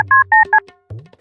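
A telephone keypad is dialed in a comic kidnap skit: three short, loud dual-tone beeps in quick succession, followed by a brief rustle and a low murmur.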